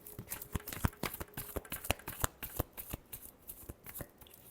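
A deck of tarot cards is shuffled close up, giving a rapid run of sharp, evenly spaced snaps and flutters that carry on throughout with no speech.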